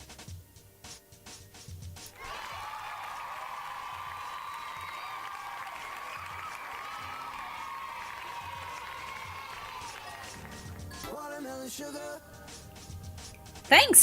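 A golf clap sound effect plays as a long, even patter of soft, polite clapping that holds steady for several seconds. Faint talk sits underneath, and a sharper burst of sound comes at the very end.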